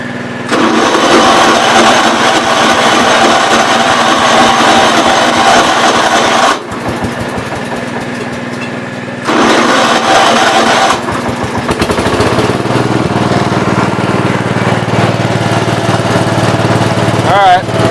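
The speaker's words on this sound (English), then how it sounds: "It's only running with the choke full on." A four-wheeler engine runs with the choke full on, a loud, rough, continuous drone that dips briefly midway and then returns at full strength.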